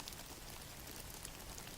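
Steady, dense rainfall patters continuously on surfaces, an even wash of drops with no pauses and no voices.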